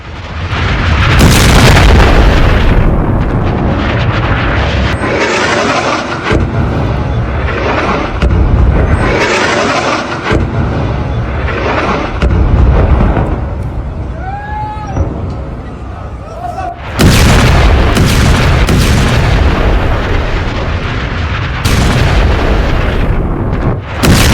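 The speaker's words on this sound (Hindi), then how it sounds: "एक के बाद एक कई धमाके हुए।" Heavy booming blasts from Israeli missile strikes in Lebanon, a series of loud explosions in succession, one after another, mixed with rumbling and someone talking over them.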